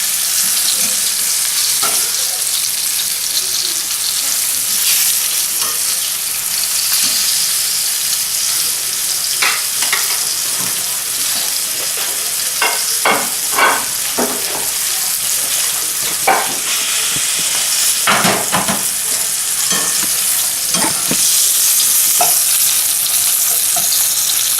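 Venison osso buco pieces sear in a hot pan with a strong, continuous sizzle, broken by occasional clacks and scrapes as the pieces are turned, close up with no talk.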